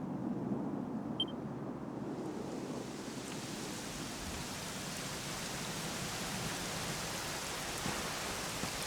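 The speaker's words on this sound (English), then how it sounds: "it was raining like this the last time I ever saw her" Steady rain falls in a Dragon Quest XI game scene, a dense, even hiss that swells slightly after the opening seconds and holds at a moderate level throughout, with no voices.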